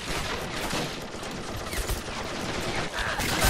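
Machine guns and rifles rattle through a Men of War Assault Squad 2 battle on a Call of Duty mod map, a loud, dense, unbroken stream of gunfire, no talk.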